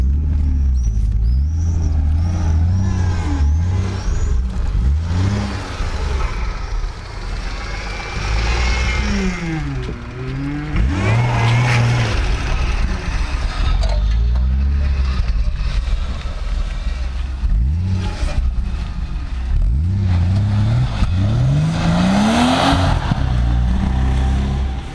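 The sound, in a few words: BMW E36 car engine starting up and revving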